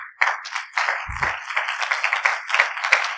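A church congregation claps in a fairly steady rhythm during a sermon, moderately close, with a brief low thump partway through.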